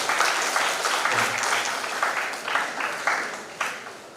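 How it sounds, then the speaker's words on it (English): Audience applause at a national conference, a crowd clapping loudly at first and then tapering off in uneven bursts as individual claps fade, with a brief low murmur partway through. "I think you deserve a round of applause for yourself"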